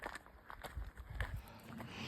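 Soft, irregular footfalls of cows plodding along a hiking trail in the Dolomites, low thuds with faint background noise and a hint of distant voices.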